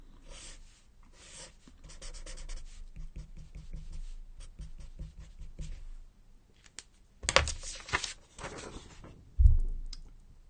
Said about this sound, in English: Let me draw it.